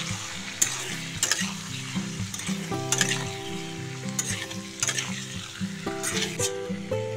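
Local chicken pieces stir-fried in a pan, sizzling and crackling steadily with repeated scraping and stirring strokes and occasional utensil clinks, close and alone without talk.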